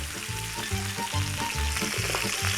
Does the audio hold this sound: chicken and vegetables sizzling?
yes